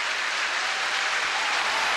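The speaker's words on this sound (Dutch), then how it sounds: "een groot applaus voor de inzending van Bosnië en Herzegovina voor de start" A large audience at the 1994 Eurovision Song Contest applauds Bosnia and Herzegovina's entry, a dense, steady roar of clapping that carries through without a break.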